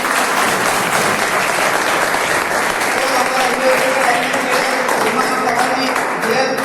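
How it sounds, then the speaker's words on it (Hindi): A meeting-and-celebration crowd gives a doctor a loud, sustained round of applause, dense clapping running steadily from start to finish. "डॉक्टर साहब के लिए बहुत जबरदस्त ताली होनी चाहिए"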